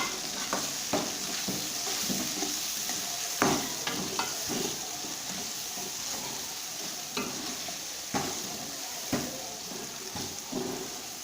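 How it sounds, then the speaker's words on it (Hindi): Tomatoes and salt sizzle in a pan while a spoon stirs them in a series of scraping strokes over a continuous frying hiss, with no voices. "और इनको मिक्स करेंगे, अच्छे तरीके से मिक्स करेंगे।"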